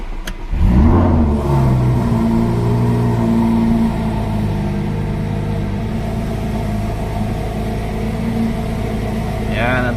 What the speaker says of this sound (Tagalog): Yan ang tunog ng Lamborghini.